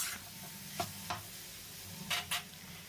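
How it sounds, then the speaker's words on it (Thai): Rice seasoned with soy sauce stir-fried in a pan with vegetables, heard as a quiet background crackle with a few soft scraping strokes of the spatula spaced out across the moment. "เมื่อเรานำข้าวลงไปผัดแล้วก็ คลุกเคล้าให้ส่วนผสมเข้ากันครับ"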